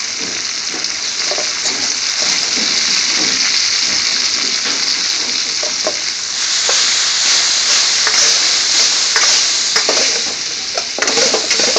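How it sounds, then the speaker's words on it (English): Chopped onion tipped into a hot pan for Indian-style fried potato and beans, a steady close sizzle and hiss of frying throughout, with occasional stirring scrapes and clinks, growing brighter and louder partway through. "All the chopped onion goes in now"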